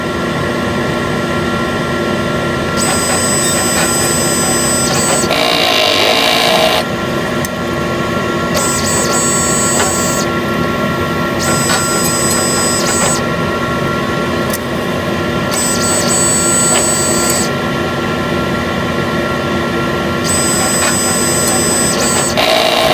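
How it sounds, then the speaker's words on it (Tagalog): A sublimation printer running a head clean whirs steadily with a constant mechanical hum, its carriage motor cycling in repeated bursts of high whine every few seconds. "Printer na yan."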